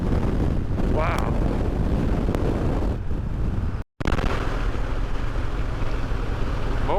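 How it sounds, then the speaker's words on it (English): Strong crosswind buffets a motorcycle rider's microphone in Death Valley, a loud continuous roaring rush broken by one brief dropout, with the rider's voice blending faintly into the gusts. "that might be the strongest wind I've ever ridden in"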